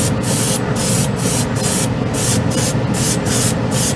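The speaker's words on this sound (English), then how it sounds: "The airbrush is nice. Goes on beautifully." An airbrush sprays white scale-model paint onto plastic, a close, loud hiss broken into about ten short, rhythmic bursts by repeated trigger pulls, with no speech.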